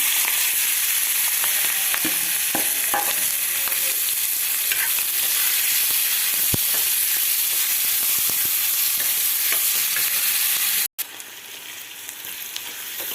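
Onions frying in oil with turmeric and green chilies for a milk curry with ridge gourd and drumsticks: a steady, loud sizzle with occasional stirring clicks, cutting off sharply near the end and then resuming more quietly.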